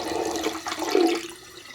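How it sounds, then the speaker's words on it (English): Leftover beer yeast from a fermentation batch pours down a drain, a rushing, gurgling wash of liquid that swells near the middle and then tapers off, close and fairly loud with no talking. "What we're going to do is put it right down the drain."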